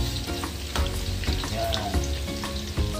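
Tofu sizzling and frying in hot oil in a wok, a dense steady crackle with occasional spatters, close and loud, while a voice speaks a single short word.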